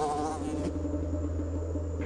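A fly buzzes steadily in the video game Nightmares from the Deep, a continuous droning hum that holds close and even for about two seconds, with no voices over it.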